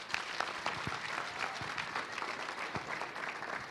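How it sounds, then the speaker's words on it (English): A crowd at a recognition ceremony applauds steadily, dense clapping that holds at an even level throughout. "again, a round of applause"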